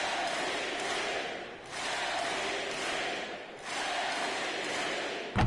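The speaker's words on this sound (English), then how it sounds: "Is the crowd chanting MVP?" An arena crowd in the NBA 2K24 basketball game chants MVP in rhythmic waves, loud and roomy, with three swells separated by brief dips and no commentary over it.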